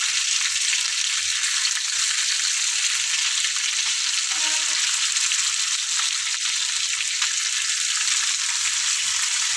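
Fish fries in a pan at home, a loud continuous sizzle and crackle of hot oil that stays steady and close throughout, with a faint stir or knock partway through.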